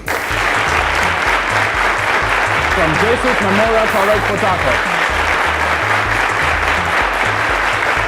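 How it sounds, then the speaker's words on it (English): Loud, steady applause from a studio audience greets a finalist at a televised quiz competition finale, with someone speaking over it and a thumping music beat underneath. "Ladies and gentlemen, a round of applause to the one and only Adeyanju Oluwafemi"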